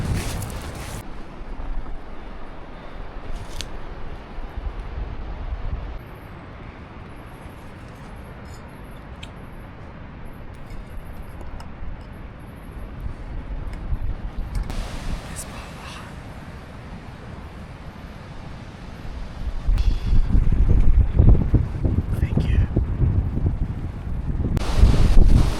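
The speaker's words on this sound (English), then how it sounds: "Windy as fuck today." Strong wind roars steadily across an open mountain slope in the Ruahine Ranges, buffeting the microphone as a continuous low rumbling rush that surges louder in gusts toward the end, with no voices.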